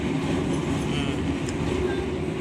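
The KA Motis passenger train, which carries motorcycles, runs from Purwokerto to Pasar Senen with a steady, dense rumble heard from inside the carriage, constant and fairly loud throughout.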